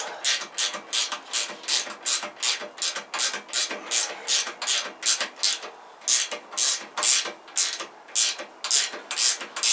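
A ratchet spanner clicks rapidly in steady repeated bursts while the shock absorber bolts on a Kawasaki GPZ500S motorcycle are nipped up, close and crisp.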